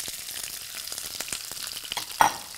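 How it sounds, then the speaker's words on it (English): Onions and peppers sauteing in a frying pan for a chicken teriyaki stir fry, a soft crackling sizzle with scattered stirring clicks and one sharper scrape near the end, no voices. "You're going to want to add the onions and the peppers next"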